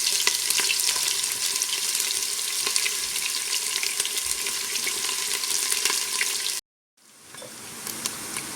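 Chopped onions fry in a little under half a cup of oil, a loud, dense, steady sizzle close up that cuts out suddenly, then comes back softer.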